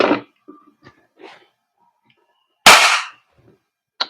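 Two sharp, loud pops from a Umarex Glock 17 Gen 5 airsoft pistol firing through a chronograph, separated by a quiet gap, with a faint click and soft handling noise between them and no talk.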